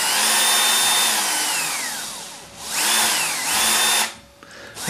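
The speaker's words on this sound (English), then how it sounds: "if you depress it a little bit more, it starts to spin real slow, as you expect that from FESTOOL" A Festool CXS cordless drill whirs close by in several bursts, its motor pitch sweeping up and down as the trigger is eased in and out, then stopping abruptly.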